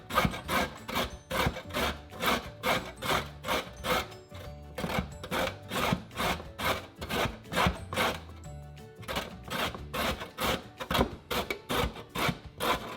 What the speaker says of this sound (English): it is now time that we shred our carrots